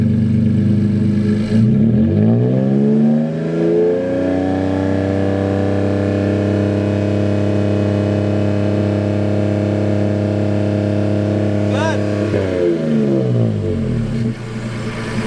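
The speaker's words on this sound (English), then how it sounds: "We're gonna go ahead and test out now the 4-inch exhaust from Mbrp." A Toyota Tacoma pickup engine with a 4-inch MBRP exhaust revs up from idle, holds a loud steady drone with deep exhaust rumble for several seconds, then drops back down.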